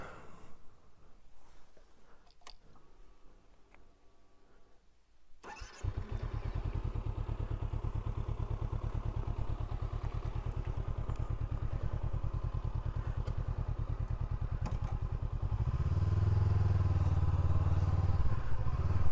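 Honda CB400X motorcycle starting up after a quiet stretch, its engine catching with a thump and settling into a steady close rumble, then revving louder as the bike rides off.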